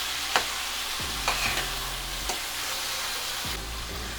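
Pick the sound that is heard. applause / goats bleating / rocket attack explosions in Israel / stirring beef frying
stirring beef frying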